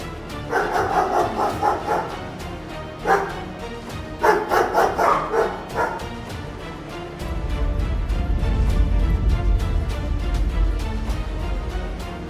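A guard dog barks at thieves, loud repeated bow-wow barks in bursts with short pauses, followed by a low rumbling background noise as the barking fades.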